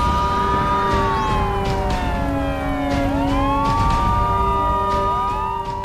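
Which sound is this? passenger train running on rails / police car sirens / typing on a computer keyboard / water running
police car sirens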